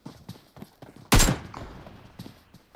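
A single loud, close gunshot cracks out in PUBG Mobile, played on an emulator, amid quieter scattered clicks and soft footstep-like taps before and after.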